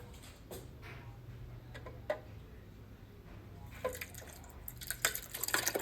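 Liquid from homemade cream cheese drips through cheesecloth into a bowl sitting in a kitchen sink, giving faint, irregular ticks and drips that quicken into a busier patter toward the end.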